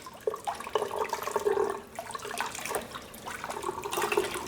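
Tap water runs steadily over hard-cooked eggs as their shells are peeled away, a continuous splashing hiss broken by small knocks and shifting gurgles, close and fairly quiet.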